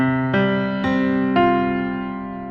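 Piano pattern of three struck notes in steady succession, the sustained chord ringing on and slowly fading after the last attack, near and unaccompanied by voices.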